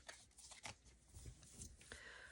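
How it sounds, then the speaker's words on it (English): Matte tarot cards being shuffled up close in quiet, soft bursts of riffling and sliding, slightly uneven, as the cards catch and stick. "These cards are like matte, so when you shuffle it, it sticks."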